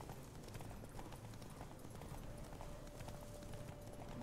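A horse gallops in the video game Witcher 3: Wild Hunt, steady rhythmic hoofbeats running continuously at a quiet, even level without a break.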